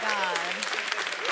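A studio audience applauds briefly at a comedy talk show, a dense patter of clapping with a voice speaking over it.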